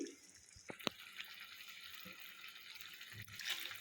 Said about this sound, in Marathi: आता ह्यातमध्ये अजून थोडं पाणी वतते मी